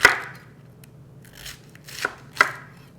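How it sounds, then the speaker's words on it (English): A knife cuts a halved cauliflower into thick slices on a cutting board. There are four distinct chops, each a crisp crunch with a sharp knock, and quiet pauses between them. "And then I'm just going to cut it into about half-inch thick slices."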